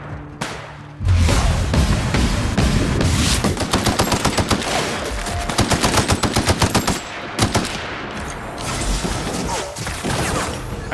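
Assault rifle firing in The Outer Worlds on PC, loud sustained automatic bursts with rapid rhythmic shots and brief pauses between strings, close and dominant throughout.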